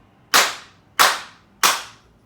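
Three loud, sharp hand claps for camera sync, spaced about two-thirds of a second apart, each snapping out and fading quickly in a quiet room without talk.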